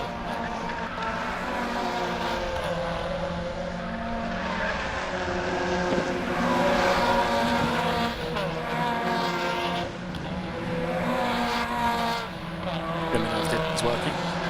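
Mazda Miata race cars braking hard into a corner at Cadwell Park, engines roaring loudly and continuously in a dense pack, with a race commentator talking over the noise.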